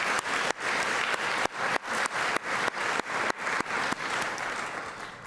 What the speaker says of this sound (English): All right, a round of applause for Harley.